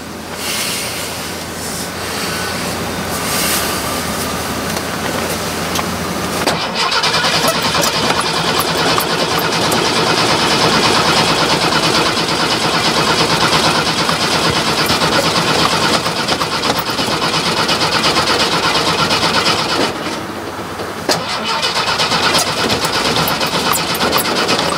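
A car engine out of gas cranks loudly and continuously in a long grinding starter whir, close by and without catching.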